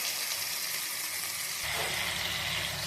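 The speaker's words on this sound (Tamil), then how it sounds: "தக்காளி நல்லா வேகணும். நல்லா வதங்கின பிறகு" Tomatoes sauté in a pan for crab gravy, a close, steady sizzle with soft hissing crackle that swells slightly partway through, with no talking.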